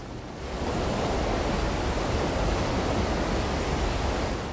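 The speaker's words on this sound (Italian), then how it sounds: "dell'acqua che scorre verso un precipizio" Water rushing toward a precipice in the video game Daylight, set in a sewer: a loud, steady roar of flowing water that swells in within the first half second and holds unbroken.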